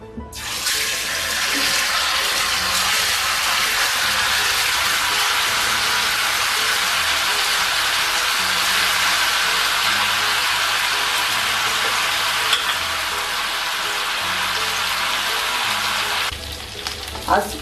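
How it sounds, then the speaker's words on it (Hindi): Cut pieces of crispy corn flour snack deep frying in preheated oil make a loud, dense, unbroken bubbling sizzle that runs throughout, with a few light clinks near the end. "अब ये कट चुके हैं और इसे हम डीप फ्राई करेंगे और हमने तेल पहले से ही गर्म कर लिया है।"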